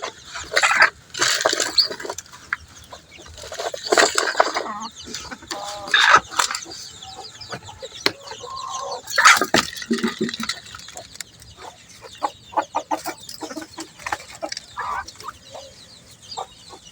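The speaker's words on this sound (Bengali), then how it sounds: "আমার মুরগিগুলা এই ভিজা খাবারটা খেতে খুব পছন্দ করে।" A farm flock of hens pecking at moistened feed, clucking and calling steadily and close, with sharp squawks breaking through at intervals and no voices over them.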